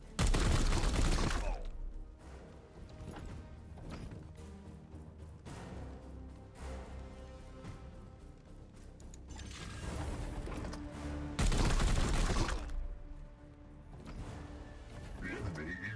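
Gunfire in the Warhammer 40,000 Chaos Gate - Daemonhunters video game, loud rattling volleys at the start and again near the end, with quieter mechanical clanks and game sounds between them.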